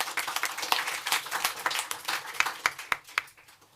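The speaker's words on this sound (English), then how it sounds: "Round of applause, please." Applause from a panel discussion audience on international justice: scattered, fairly distant clapping of moderate density, thinning into a few separate claps toward the end.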